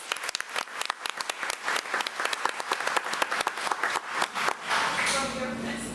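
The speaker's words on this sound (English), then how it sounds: "Let's give Brandon a round of applause." Crowd at a school district board meeting applauding a student, a burst of close, uneven clapping that thins out near the end, leaving room noise.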